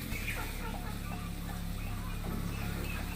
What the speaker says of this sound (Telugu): ఎన్నున్నాయిరా కోళ్ళు